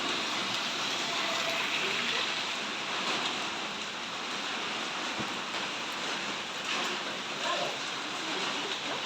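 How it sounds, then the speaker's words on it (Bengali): Steady rain falls on a cold winter day, a dense continuous hiss close around without breaks, with no clear speech over it. "হ্যাঁ, বৃষ্টি হচ্ছে।"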